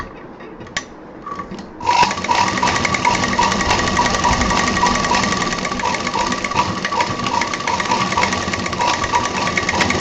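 A sewing machine starts up after a quiet moment and runs steadily, stitching double along a handbag zip with a loud, fast, continuous mechanical whir.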